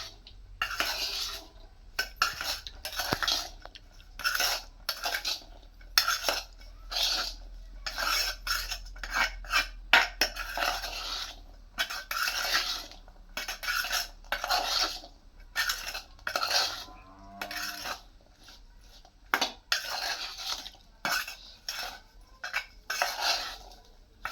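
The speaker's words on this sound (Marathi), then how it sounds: "थोडीशी कोथिंबीर वगैरे टाकून आपण पुन्हा मिक्स करून घेणार आहोत" Spoon mixing corn chaat with freshly added coriander in a metal dish, giving repeated close scraping and clinking strokes in an irregular rhythm, with no voices.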